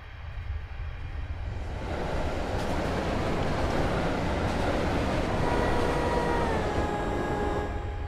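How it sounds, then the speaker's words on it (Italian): A train rushing through a station platform in a rail simulator game, a dense broad roar that swells after the first two seconds and holds loud and steady, with faint squealing tones from the wheels, no talk. "Treno in transito al binario 2."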